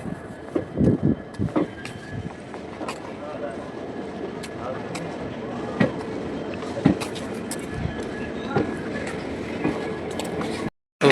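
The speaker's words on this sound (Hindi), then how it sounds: "भाई चंडीगढ़ एक्सप्रेस आ चुकी है।" The Chandigarh Express pulls into a railway station in India. Its rumble and scattered wheel clatter and clanks carry through the whole stretch, under nearby voices.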